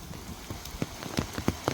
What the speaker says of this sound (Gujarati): ડબલો ફૂલ વરસાદ હો ભાઈ કાંઈ ઘટે નહીં